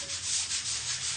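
Sandpaper worked by hand over an end table being up-cycled, a close, loud rasping rub in regular back-and-forth strokes about every quarter second, with no talking.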